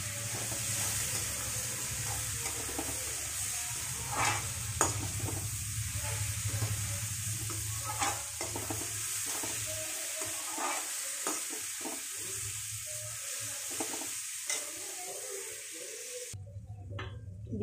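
Onion, tomato and spice masala with a little salt and turmeric fries and gets stirred in a pan for dum aloo, a steady near sizzle broken by irregular scraping stirs, with no voices.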